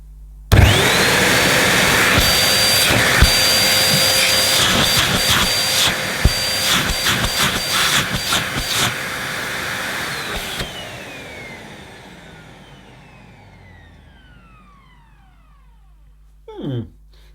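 A Sanyo SC-35A vacuum cleaner starts abruptly with a loud, steady whine and roar that holds for about ten seconds, then winds down slowly with a falling pitch once switched off, followed by a brief handling noise.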